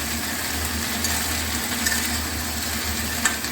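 Vegetables fry in a pan with a steady, even sizzle and hiss, continuous and fairly close, with no talking.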